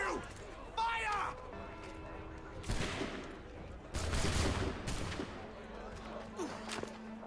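Gunfire volleys ring out in an Assassin's Creed III battle, coming as several sharp bursts of musket fire spread across the scene, with shouting voices mixed in between them.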